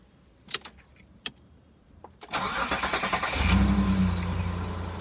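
A 1996 Mitsubishi Pajero V6 starts after a starting-problem fix: a few clicks and key jangles, a brief crank, then the engine catches and settles into a steady, close idle.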